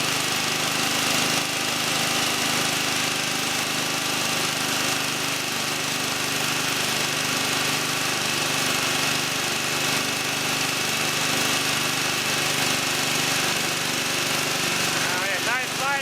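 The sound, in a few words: small engine running on a compressor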